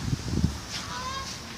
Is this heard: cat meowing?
no